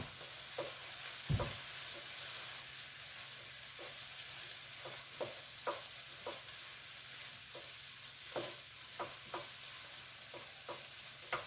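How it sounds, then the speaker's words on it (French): Peppers, lardons, onions and tomato paste get stirred together in a frying pan, a quiet continuous sizzle punctuated by irregular knocks and scrapes of the utensil against the pan, with no talking. "les poivrons, les lardons, les oignons, tout ça, je remue bien pour bien mélanger"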